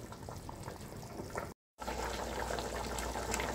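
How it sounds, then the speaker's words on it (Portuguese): Beef ribs in a pressure cooker give off a steady bubbling, hissing boil that runs continuously, broken by a brief silent gap before it resumes. "Vou colocar de novo na pressão"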